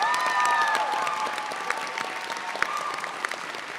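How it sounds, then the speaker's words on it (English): A crowd claps steadily for graduates at a graduation ceremony, the applause gradually thinning out over a few seconds, with a few whistles near the start. "one final round of applause and congratulations to our graduates"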